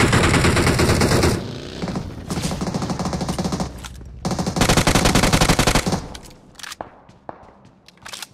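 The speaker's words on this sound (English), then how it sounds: "Gunshot! Gunshot!" Loud, close bursts of rapid automatic gunfire in PUBG Mobile, rattling in long volleys, then thinning out into scattered single shots as it quiets.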